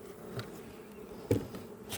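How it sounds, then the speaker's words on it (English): Honeybees buzz faintly around hive frames while new splits are transferred, a soft steady hum with a few louder passes from bees flying close. "These bees have been doing really, really well."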